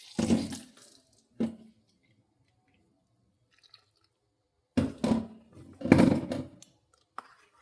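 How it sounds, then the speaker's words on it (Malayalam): Water goes into maida dosa batter in a bowl in several short, splashy bursts separated by silent pauses, close by and with no talking. "ഇച്ചിരി വെള്ളം കൂടെ ചേർക്കണം"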